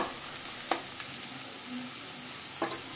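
Onion, green chilli and whole garlic cloves frying in mustard oil, a soft continuous sizzle with a couple of sharper clacks of a utensil against the pan, no talking.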